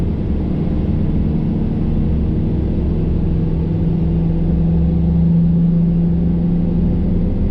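A truck engine drones steadily while hauling a tractor on a trailer, a loud, even low rumble with a faint rising tone partway through and no voices.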